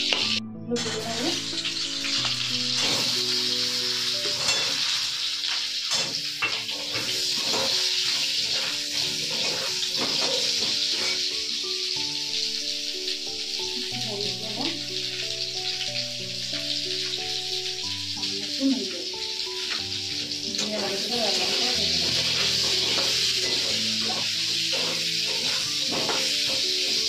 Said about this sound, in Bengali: পটলগুলো আমার খুব সুন্দর করে লাল লাল করে ভাজা হয়ে গেছে